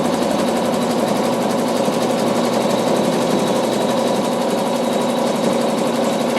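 An embroidery sewing machine stitches through wool batting held in a moving hoop, a loud, steady mechanical whir with rapid needle pulsing that runs unbroken and alone.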